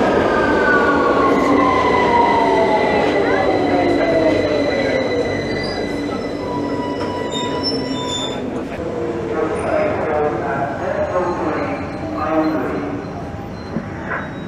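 A London Underground train rumbles loudly at close range, its wheels squealing in long descending and sustained tones as it moves along the track.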